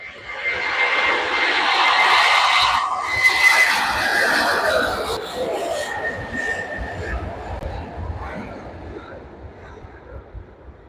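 A sixteen-year-old airliner takes off from Manchester Airport bound for JFK, its engines roaring loud and steady, then slowly fading as it climbs away, with a voice speaking over it.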